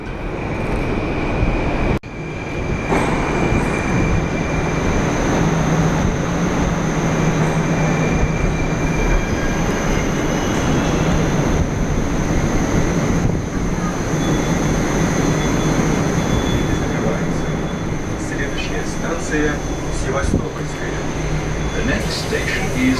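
Moscow tram rolling on rails, a steady loud rumble of wheels and car noise throughout with faint squeals and a sharp shift near the start, with some voices mixed in.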